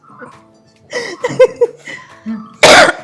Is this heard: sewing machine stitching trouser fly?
no